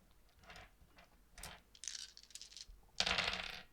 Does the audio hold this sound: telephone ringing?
no